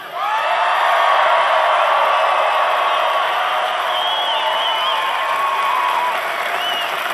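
A large political rally crowd in Billings, Montana cheers, whoops and applauds continuously, a loud, dense roar of clapping and shouting with no gaps.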